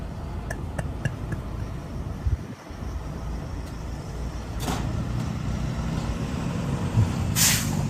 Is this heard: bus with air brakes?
yes